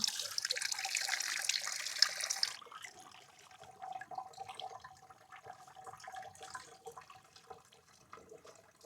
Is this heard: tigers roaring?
no